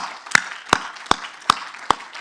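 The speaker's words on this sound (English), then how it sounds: "they deserve a round of applause" Audience applause closing a seminar session at a formal meeting: five sharp, evenly spaced bursts of clapping about every 0.4 seconds, fairly close and clear, with no talk over them.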